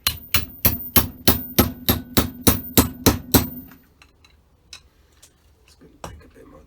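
Hammer blows drive a slightly longer throttle shaft into a Dellorto DRLA 40 carburettor, about a dozen sharp, evenly spaced metallic strikes in quick succession, then a few faint scattered taps and clicks as work pauses.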